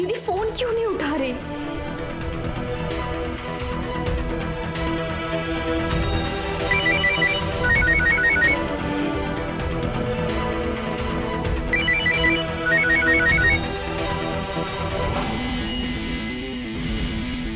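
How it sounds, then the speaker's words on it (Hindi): A mobile phone ringtone in a Hindi crime drama plays a short repeating melody twice, partly buried under dense background music and sound that runs throughout. "किसका फोन बज रहा है यार?"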